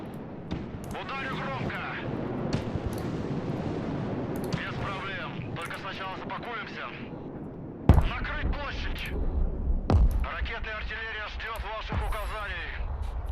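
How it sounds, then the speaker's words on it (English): Long-range rocket artillery in the war game Broken Arrow, distant launch booms and rumbling blasts that break out partway through, with someone talking over much of it. "move, fire 4 rockets, move, fire 4 rockets, move, fire 4 rockets"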